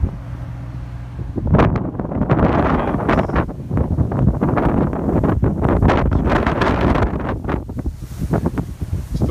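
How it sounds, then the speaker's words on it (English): Strong gusts, estimated near 30 mph, roar across the microphone on St. Thomas in the US Virgin Islands the morning after Hurricane Irma, a loud, continuous buffeting rush that starts after a brief calm. "Still quite a bit of wind this morning."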